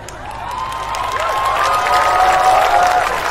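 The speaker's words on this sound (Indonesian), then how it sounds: "Kenapa banyak orang tepuk tangan?" Audience at an Islamic sermon claps and cheers, a short burst of applause swelling to a loud crowd roar with shouts.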